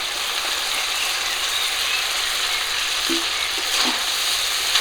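Bele fish dropping into hot oil and cooked spice paste in a pan, giving a steady, close, loud sizzle throughout with a couple of faint utensil knocks near the end.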